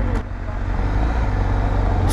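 Honda CBR1000RR-R sportbike engine heard close and loud, a steady low rumble with a slight rising pull as the bike eases away on the clutch, no talk over it.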